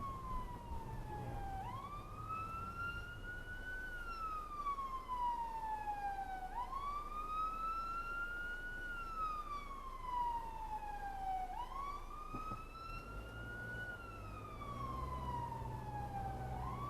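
A passing fire engine's wailing siren sweeps up and down in long repeated cycles, loud and steady over distant road traffic.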